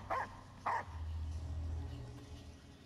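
Two sharp dog barks a moment apart, from dogs chasing the player in the 2023 game Layers of Fear, are followed by a low rumbling ambience.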